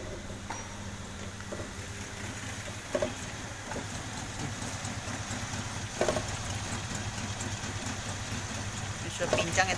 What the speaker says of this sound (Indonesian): Ini sudah pincang ya teman-teman ya. Suaranya agak pincang nih.